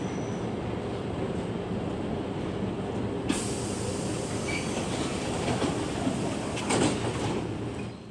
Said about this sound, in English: At 80 miles an hour, an Amtrak train doesn't slow for snow